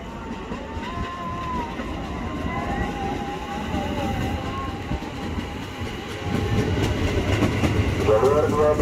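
A KRL commuter train rumbles at Manggarai station in Jakarta during rush hour, a steady rolling drone with rail clatter that swells louder near the end, with station announcements over it.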